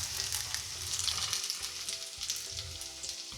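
Potato pancakes frying in a pan, a constant close sizzle with crackling oil and some soft low scraping or stirring underneath.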